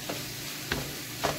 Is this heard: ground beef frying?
yes